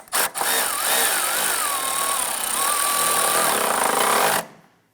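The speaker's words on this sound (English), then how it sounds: "Go ahead and snug down this nut." A power tool whirs steadily for about four seconds, its pitch wavering, then cuts off while snugging an exhaust manifold flange stud nut on a 1999-2004 Jeep Grand Cherokee.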